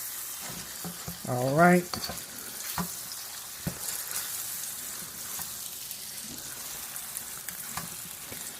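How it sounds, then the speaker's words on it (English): Beef sears in a hot pan, a steady sizzle and frying hiss running throughout, with a short spoken word near the start and a few stirring clinks. "So I'm going to finish searing this off"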